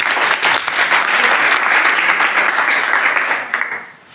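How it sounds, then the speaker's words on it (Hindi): An audience claps for a young girl at a public talk, a dense sustained burst of applause that holds steady and then thins out at the end. "बहुत अच्छी है बेटी के तालियां बजाइए।"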